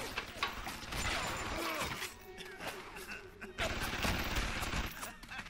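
Steady gunfire in Bioshock Remastered, dense rattling shots with mechanical clatter running through the whole stretch, loud and busy over some speech.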